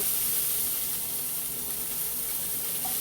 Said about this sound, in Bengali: এবারে কিন্তু আমি ওই তেলের মধ্যেই খানিকটা কুচনো পেঁয়াজ দিয়ে দেব